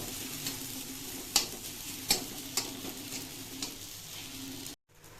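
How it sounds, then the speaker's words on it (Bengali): Food frying in a pan while being stirred, browning to a reddish colour: a steady sizzle under a few sharp spatula scrapes and knocks against the pan, with no talking, ending in a brief cutoff. "এটাকে একটু ফ্রাই করে নেব, লাল লাল ভাব একটু চলে আসবে"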